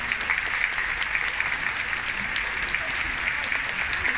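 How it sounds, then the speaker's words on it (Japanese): Big crowd at Ryogoku Kokugikan applauds steadily during Aminishiki's final sumo ring-entering ceremony, a continuous wash of clapping filling the arena, with an announcer's voice faintly underneath. "今一度皆様大きな拍手をいただけますでしょうか。"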